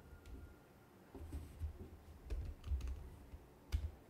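Computer keyboard typing in short, quiet, irregular bursts of clicks, close by, while entering a Tableau calculation, with no talk.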